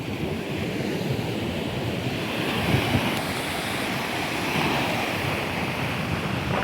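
Sea waves wash up on Puri beach in a continuous loud roar of surf, mixed with rumbling wind buffeting the microphone and no voices.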